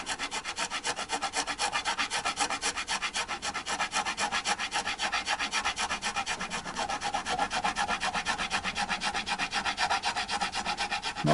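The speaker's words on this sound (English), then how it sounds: "with great care I am working down the excess material on the nut" Steady back-and-forth rasping as a file works down the bone nut of an Ibanez Gio guitar, close and continuous with an even stroke rhythm and no voices.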